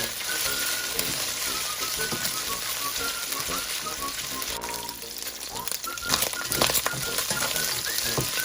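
Pork and taro roots stir-fry in a pan, a continuous sizzle broken by scraping and stirring clatter, with rising bursts of crackle near the end; background music or talk faintly underlies it.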